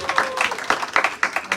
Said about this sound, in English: if I could give a round of applause